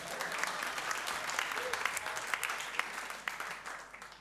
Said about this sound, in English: And a round of applause for the music stand.